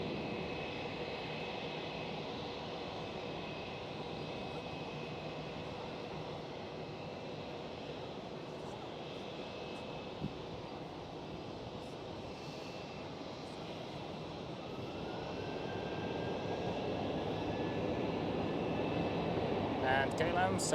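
A Boeing 737 MAX 8 jet airliner passes at Amsterdam Schiphol as a steady, moderately loud engine roar that swells toward the end, with a rising whine, while people talk over it.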